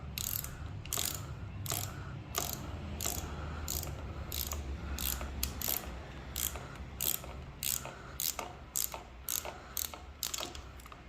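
A ratchet turns a 10mm socket to loosen a bolt on a 2019 Kawasaki ZX-6R motorcycle, giving close, rapid clicking in repeated bursts over a faint low hum.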